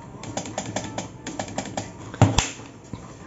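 Rapid clacky keystrokes on a budget RGB gaming keyboard with a metal plate underneath patter in an uneven rhythm up close, with a sharper knock near the end, no voices over them.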